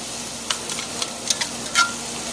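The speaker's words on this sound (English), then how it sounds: "You'll see that tomato will start deglazing the pan." A garlic and tomato sofrito sizzles in a paella pan while being stirred, a run of quick, close spoon scrapes and clatters over a low, even frying hiss, with no voices.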